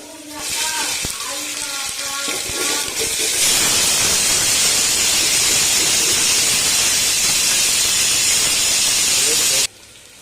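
Sliced onions dropped into hot oil that already holds green chillies for Salem-style masal bajji, bursting into a loud, dense hiss that holds steady for several seconds and then stops abruptly.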